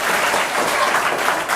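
Audience applause for a school student contestant in a KBC-style general knowledge quiz, a dense burst of clapping from a room of people, steady and fairly loud throughout with no talking.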